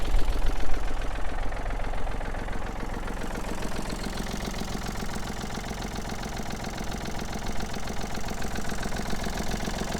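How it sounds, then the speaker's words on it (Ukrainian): A Yanmar AF33 Japanese mini tractor engine idles steadily and evenly, a continuous low mechanical rumble with no pauses, close and fairly loud. "Мотор, мотор працює дуже рівно, тихенько, без лишніх шумів, вібрацій"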